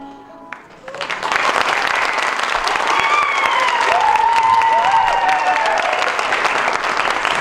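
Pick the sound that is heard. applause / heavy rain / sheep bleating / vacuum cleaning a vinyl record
applause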